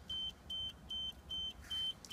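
An nRF24L01+PA radio receiver gives a regular series of six short, clear electronic beeps at an even pace, each about a quarter second long, over faint background hum.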